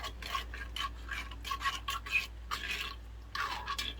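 Chicken, vegetables and curry powder are stirred in a camp oven, with repeated scraping and rubbing strokes in a steady rhythm at close range over a low constant hum.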